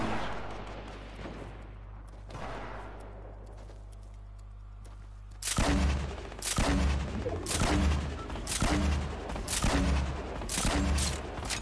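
Fortnite gunfire and explosions: a quieter stretch of distant bangs gives way to a series of loud, close, booming blasts and volleys arriving every second or so.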